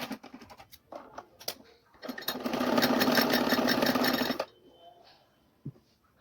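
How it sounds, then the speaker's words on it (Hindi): A sewing machine stitches cut cloth pieces of a cap together, a few short bursts of clatter followed by a steady two-second whirring run of stitching, then stopping, close and fairly loud. "हम यहाँ पे इसको अच्छे से सिलाई लगाएंगे, जिससे कि ये निकले ना कपड़ा।"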